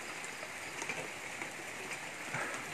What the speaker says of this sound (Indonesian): Jadi memang hujan lah,